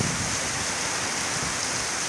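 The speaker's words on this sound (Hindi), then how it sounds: "वो बड़ी शदीद बौछार है जी बारिश की" Heavy rain shower pours onto tree leaves at night in Murree, heard from under a shed as a dense, steady hiss that stays loud and unbroken throughout.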